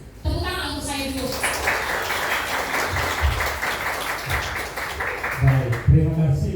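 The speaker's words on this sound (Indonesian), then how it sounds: "Tepuk tangan untuk saya dulu" Steady applause from a crowd filling the space, with voices and cheering mixed in, fading as a person starts speaking near the end.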